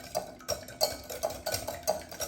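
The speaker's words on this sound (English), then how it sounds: "I'm going to go ahead and whisk these eggs" Eggs being whisked in a bowl for an egg wash for oven fried chicken, with quick, rhythmic metallic clicks and scrapes repeating about every third of a second, near and fairly quiet.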